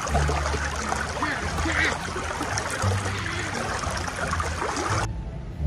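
Water trickles and pours steadily to wet a doll, a continuous splashing stream close by that stops abruptly near the end, with faint voices in the background.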